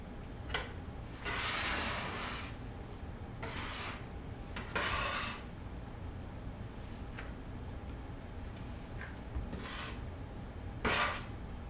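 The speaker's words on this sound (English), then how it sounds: "just squish it together and then start to knead" Fresh pasta dough kneaded by hand on a work surface, heard as close, soft rasping rubs and pushes in irregular strokes with quiet pauses between them.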